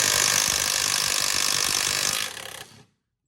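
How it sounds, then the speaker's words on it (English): A Milwaukee M12 Fuel impact wrench works tough bolts loose on a stranded Subaru Impreza 2.5i, making a loud continuous close hammering whir that winds down and stops abruptly near the end. "Same thing, M12, but it's actually the legit style impact."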